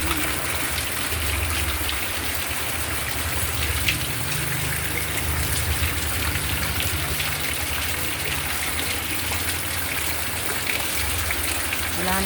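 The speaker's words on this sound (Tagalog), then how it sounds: "Lakas ng ulan mga lalab, oh." Heavy rain from a typhoon pours steadily around a hut in the Philippines, a dense, loud, unbroken hiss with a low rumble beneath it that holds constant throughout.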